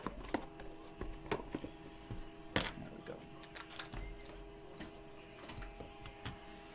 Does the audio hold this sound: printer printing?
yes